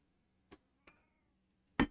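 A pet cat lets out a few brief, close meows with pauses between them, ending in a louder, fuller call, against a quiet indoor background.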